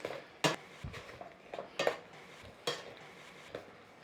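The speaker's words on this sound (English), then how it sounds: "So let's give that a stirring in there." Fruit with mixed spice and butter being stirred in a pan, a series of intermittent scraping and clinking utensil strokes, fairly quiet and close, with only a faint sizzle beneath and no talking.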